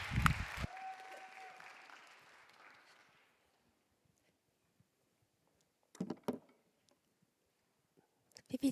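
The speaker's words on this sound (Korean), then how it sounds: "박수로 환영하죠." A congregation at a church youth worship service bursts into applause to welcome a speaker; a loud, dense burst that thins and fades over about three seconds, followed by near silence and a few scattered knocks and rustles.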